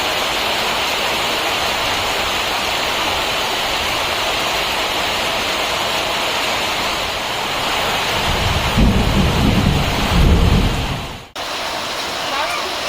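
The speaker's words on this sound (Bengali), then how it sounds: "খুব জোর বৃষ্টি হচ্ছে" Steady, dense roar of heavy rain fills the whole clip, swelling louder toward the end with a low rumble before a brief dip.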